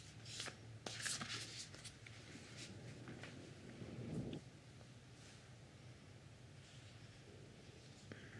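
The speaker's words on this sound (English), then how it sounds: "One last shuffle of the deck here before I lay the cards out." A deck of cards is shuffled close to the microphone in a quiet ASMR meditation setting, with crisp riffling bursts over the first few seconds before fading into soft ambient hush.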